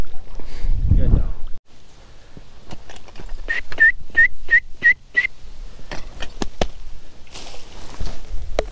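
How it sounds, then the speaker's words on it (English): A person whistles a quick series of six short, sharp rising notes, evenly spaced, over faint outdoor background noise and a few scattered knocks during a snowy duck hunt. "Whenever I heard you whistle, I was like, don't move, there must be a bird."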